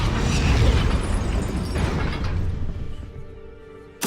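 A Depulso repelling-spell effect from Hogwarts Legacy: a loud, broad burst that swells and rolls on for a few seconds, fading toward the end before another sharp hit right at the close.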